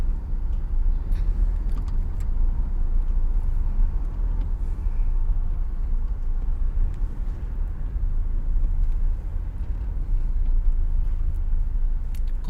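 A solar-powered jeepney drives along a road in Cebu, its steady low engine-and-road rumble continuous and fairly close, with no talk over it.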